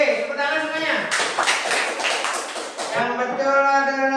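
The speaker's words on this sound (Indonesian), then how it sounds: "Oke, tepuk tangan semuanya." Students in a classroom clap together in a short burst of brisk claps lasting about two seconds, with children's voices talking before and after.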